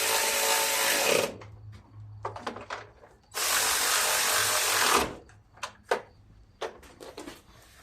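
A cordless impact wrench on a weakening battery, used on a John Deere LA150 riding mower, fires two loud sustained bursts of about a second and a half each, separated by quieter clicks and handling clatter.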